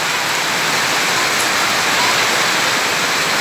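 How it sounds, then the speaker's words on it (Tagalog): Heavy rain roars with rushing floodwater during a storm, a loud, unbroken wash of noise close by with no talking. "Grabe naman itong ulan na ito."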